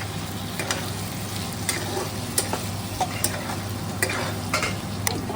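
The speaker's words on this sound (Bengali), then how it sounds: "মিডিয়াম ফ্লেমে ভাজবো আলুটাকে" Potatoes fry in a pan on a medium flame, giving a constant close sizzle with regular sharp clicks and scrapes from stirring about every half second.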